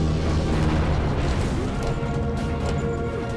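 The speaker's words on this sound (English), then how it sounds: "Now he's chucking bombs on top of everything else." A boss hurling bombs in Oceanhorn sets off a continuous, heavy booming rumble of explosions, loud and dense with no clear gaps, backed by game music.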